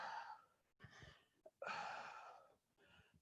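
Forceful breathy exhales during a fitness-class diaphragmatic breathing exercise, heard as a few sharp, airy bursts with short pauses between them, fairly faint and close with no speech.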